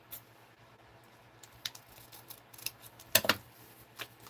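Scissors trim paper for a holiday art journal made from an altered book, giving small, quiet snips close by that end in a quick cluster of cuts.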